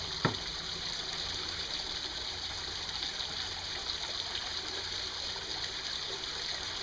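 Water washes gravel and creek material across a gold whisperer sluice during gold prospecting, a steady rushing trickle that runs evenly throughout, with one small splash near the start.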